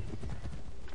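Horse hooves clop rapidly in the video game Assassin's Creed 3, a quick close rhythm of thuds with a hint of a whinny, all packed into a single second.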